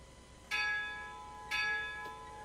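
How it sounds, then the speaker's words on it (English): A locomotive bell on a passenger train in the Railworks train simulator rings in slow, even strokes, three clear metallic clangs about a second apart, each ringing on and fading. "The bell on this locomotive is something I absolutely am in love with."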